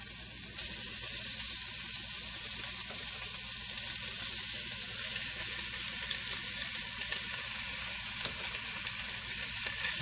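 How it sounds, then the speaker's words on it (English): Bacon sizzles steadily in a hot cast-iron pan, a constant crackling hiss with occasional pops, no voices. "Now let's get this bacon, throw it up in there."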